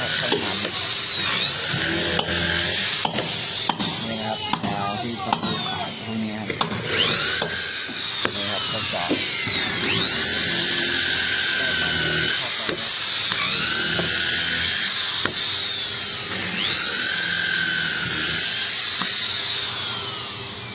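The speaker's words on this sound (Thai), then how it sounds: "เขาต้องเจาะหมดนะครับ" Drilling into the wooden planks of a fishing boat during reinforcement work, heard as a steady loud mechanical whir with rising and falling whining tones and scattered knocks, without speech.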